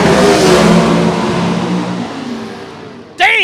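A Chevy II gasser drag car launches hard with its front wheels up at Shadyside Dragway, a loud broadband engine roar that slowly fades as it pulls away, followed by a brief rising rev near the end.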